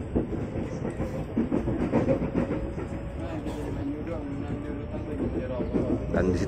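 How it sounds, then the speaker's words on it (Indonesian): Tokyo Metro 6000 series KRL commuter train departing Palmerah station on the Rangkasbitung line, a steady loud rumble of wheels and running gear with a faint clickety-clack throughout, under a voice talking. "komuter tujuan stasiun kita berangkat dari jalur 1 stasiun Palmerah"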